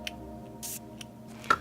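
Caudalie Beauty Elixir face spray misted from a pump bottle: a short, soft hiss of spray, near and quiet, followed by a couple of faint handling clicks.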